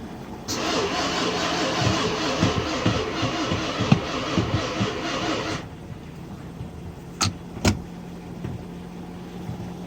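A Nissan VK45DE 4.5-litre V8 in an Infiniti M45 cranks for about five seconds with a fast rhythmic starter whir but fails to catch, then stops, leaving two sharp clicks afterward.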